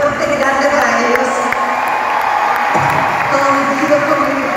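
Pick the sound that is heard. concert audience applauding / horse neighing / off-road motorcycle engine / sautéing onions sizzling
concert audience applauding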